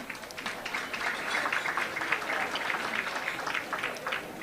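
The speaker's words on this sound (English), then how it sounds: "Let's have a round of applause for them." Steady applause from an audience at a community awards gala honoring sponsors, a dense wash of many hands clapping at even loudness throughout with no talk over it.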